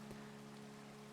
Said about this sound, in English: oh, there's the rain